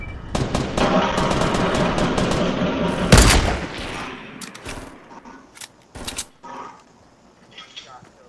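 Automatic gunfire from a Fortnite battle royale squad match, dense rapid bursts for about three seconds, a heavy boom, then scattered single shots and short volleys fading, with players talking over the fighting.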